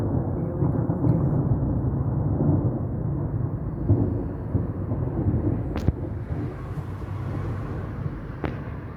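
A lightning storm's thunder rolls loud and continuous for the whole stretch, a deep rumbling wash with a couple of sharp cracks near the end, no voices over it.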